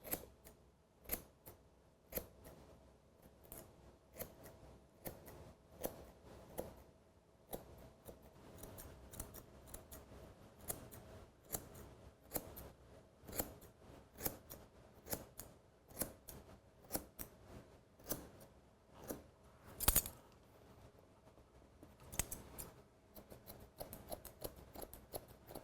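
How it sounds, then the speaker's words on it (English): Hair scissors point cutting the dry fringe area in a salon, many small crisp snips in an uneven, fairly quick rhythm, quiet and close, with no talk. "I'm just gonna go in and point cut"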